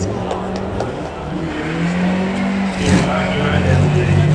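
A Bugatti Chiron supercar engine hums and rises in pitch at a hill climb event, fairly close and steady, with people talking over it throughout.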